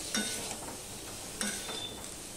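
Potato and ridge gourd cooked with spices in a pan being stirred together, a steady sizzle with two distinct scraping strokes of a spoon against the pan.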